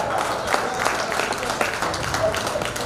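An audience claps together at a school reunion of a 1988–89 SSC batch marking 35 years, a steady, dense patter of hands with scattered sharper claps standing out, continuing for a few seconds.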